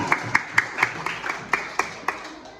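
A small classroom group claps for a student, about ten sharp, fairly evenly spaced claps in a short, thin burst that fades out.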